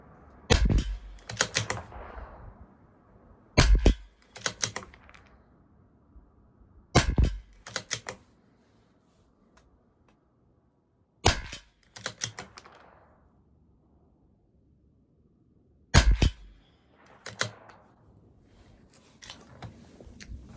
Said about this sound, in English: And we'll do another 5 shots.